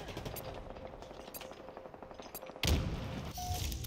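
Rapid automatic gunfire in the Halo Infinite video game, a rattling burst of shots at moderate level followed by a louder, denser blast of firing and impact noise.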